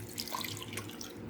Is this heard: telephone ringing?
no